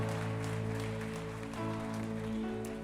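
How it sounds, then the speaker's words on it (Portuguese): A church congregation claps and praises God together, a moderate, even wash of applause over a sustained organ or keyboard chord that runs through the whole moment. "Aplauda e glorifique a Deus"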